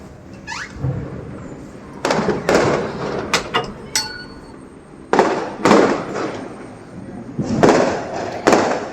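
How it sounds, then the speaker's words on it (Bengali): Firecrackers burst at a neighbouring house in the evening, sharp cracks arriving in clusters, several quick pops then pauses, moderately loud and slightly distant, with faint background voices between bursts. "সামনের বাড়িতে ওরা বাজি ফাটাচ্ছে"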